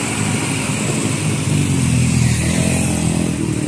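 Putra Luragung bus engine running steadily and loudly close by, a constant droning rumble with no talk over it.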